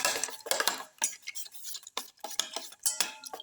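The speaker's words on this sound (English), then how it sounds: "Put in the green tomato pieces into the egg mixture. Mix, thoroughly mix." Utensil clinks and scrapes against a bowl while green tomato pieces are mixed into beaten egg for a black pepper omelette; quick irregular taps and scrapes, close and fairly soft, with no talking.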